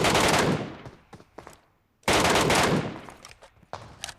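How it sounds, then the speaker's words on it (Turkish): Gunfire in a solo advanced-mode shooter game: two long bursts of rapid automatic fire, loud and dense, each followed by scattered single shots trailing off. "Artık biri sıkıyor"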